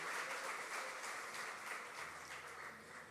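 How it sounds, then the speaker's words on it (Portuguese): Congregation applauding in a church service, a broad sustained wash of clapping from many hands that fills the room evenly and tapers slightly toward the end, with no voices rising above it. "Você pode dar uma salva de palmas a esse Deus"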